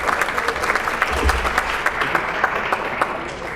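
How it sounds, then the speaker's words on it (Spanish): Steady, dense applause from a seminar audience welcoming a speaker on restorative justice at an event on the right to live free of family violence, sustained evenly throughout with no voices. "Lo recibimos con un fuerte aplauso, por favor."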